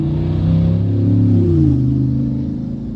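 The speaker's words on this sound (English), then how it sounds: "Y'all know that's a work truck making all that noise." A loud work truck fitted with dual rear wheels revs hard outdoors, its deep engine rumble rising and falling steadily over three seconds with no talk.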